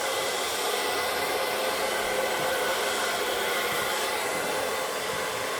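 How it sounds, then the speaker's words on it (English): Continuous, even whoosh of a hair dryer blowing across hair during styling, close and loud with a steady airflow hiss and no talking. "Remember to keep your dryer moving."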